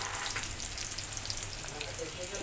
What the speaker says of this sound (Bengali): পেঁয়াজ মরিচটা একটু ভাজা করছি